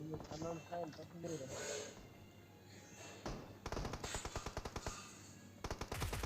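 Gunfire in PUBG Mobile, fairly quiet: someone talks over game sounds, then rapid automatic bursts of shots crackle in quick rhythmic volleys.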